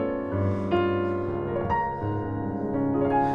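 Orchestra playing the romantic climax theme from Debussy's Prelude to the Afternoon of a Faun, a full, sustained, swelling passage of rich layered tones, loud and continuous with no talk.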